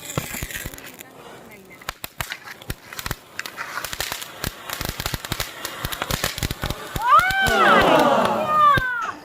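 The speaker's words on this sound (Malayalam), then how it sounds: "ഇതാണ് മോനെ ചൈന ബാൻഡ്. നോക്ക് ഇതിന്റെ പൊട്ടണ സൗണ്ടും കളറും." Chinese-brand miniature firecrackers bursting at a Vishu celebration, a rapid irregular series of sharp close cracks and pops followed by a louder crackling fizz near the end.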